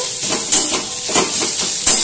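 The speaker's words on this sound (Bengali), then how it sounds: "গ্রেট করা আদা রসুন দিয়ে আবারও ভালোভাবে ভেজে নিচ্ছি" Garlic, grated ginger and slit green chillies fry in hot oil with lightly browned onions, giving a loud, close, steady hiss that swells in a few bursts. No talking is heard over it.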